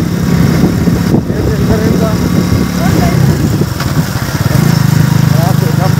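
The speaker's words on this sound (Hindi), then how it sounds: "रेहान चला रहा है मोटरसाइकिल आज" A motorcycle engine runs steadily throughout, ridden on a road near a hospital, with a continuous mid-low drone and slight revving toward the end, loud and close with no one speaking over it.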